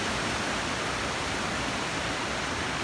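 Steady, dense roar of a waterfall heard from partway up the falls on the Donut Falls hiking trail, a loud unbroken rush of water with no voices over it.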